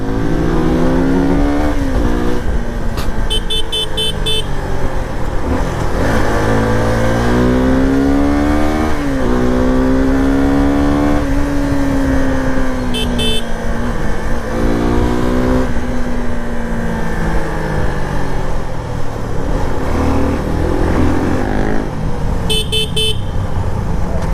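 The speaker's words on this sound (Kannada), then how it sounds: "ಈ ಸುಜುಕಿ ಇಂಜಿನ್ಸ್ ಎಲ್ಲ ಏನಂತ ಅಂದರೆ ಇದೆಲ್ಲ five thousand R P M ಆದಮೇಲೆ ಒಂಥರ ಲೀನಿಯರಾಗಿ ಶೂಟ್ ಆಗ್ಬಿಡುತ್ತೆ" A 2024 Suzuki V-Strom motorcycle engine revving repeatedly while riding, loud rising and falling pitch sweeps through the gears with wind rush, and a few short horn-like beeps in between.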